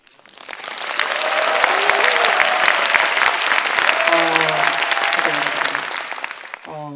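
A large concert hall audience claps and cheers loudly and steadily for several seconds at a lecture concert, with a few voices calling out over the dense applause.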